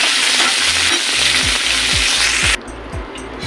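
Raisins and other dry fruits roast in a hot pan for watermelon halwa, giving a loud, steady sizzle with a low rumbling undertone that drops sharply quieter near the end.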